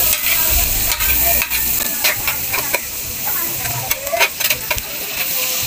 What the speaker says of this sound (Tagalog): Hintayin natin siya na medyo mag brown yung garlic.